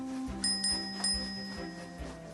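A small bell rings a few times in quick, bright dings over a steady low hum, fairly close and moderately loud, in a Thomas the Tank Engine Christmas story.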